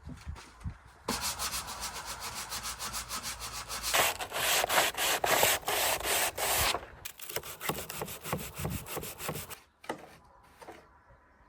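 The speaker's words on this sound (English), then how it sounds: "I'm going to take it outside and give it a sand and see how I feel" Wooden furniture being sanded by hand outdoors, steady raspy back-and-forth strokes that swell and fade in bursts, close and fairly loud, pausing briefly before resuming toward the end.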